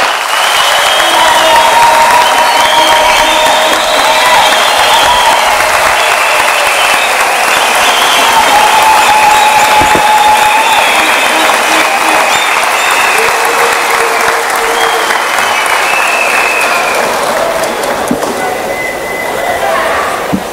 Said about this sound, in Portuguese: peço uma efusiva salva de palmas